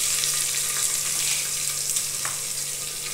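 Onions fry for a prawn curry, giving a soft, continuous sizzle with faint stirring scrapes, close and fairly quiet.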